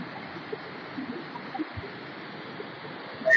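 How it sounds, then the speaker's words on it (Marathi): A swollen river in Raigad district, running high during monsoon rain, gives a steady, even rushing noise heard from nearby, continuous and moderately loud, with a brief sharp sound right at the end. "मस्त एकदम प्रेशरने पाणी वाहत."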